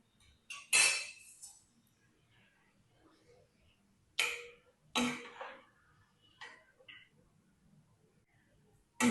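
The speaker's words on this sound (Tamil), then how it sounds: "இப்போ இந்த தயிரை இதோட சேர்த்து நல்லா கிளறி விடணுங்க" A spoon stirs curd into a rice mixture with onion and green chilli, giving a few scattered, brief scraping and clinking bursts against the vessel, close by, with quiet gaps between them.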